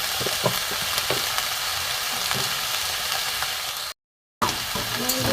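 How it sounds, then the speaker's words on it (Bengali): Bottle gourd stems frying with salt in a pan give a steady, close crackling sizzle with occasional stirring scrapes, broken once by a short silent gap. "নুন দিয়ে একটু ভাজবো।"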